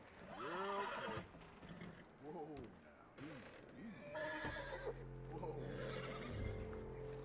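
A horse in the Red Dead Redemption 2 video game whinnies loudly several times, each neigh rising and falling, followed by hoof clip-clops and a low rumble, with talk over parts of it.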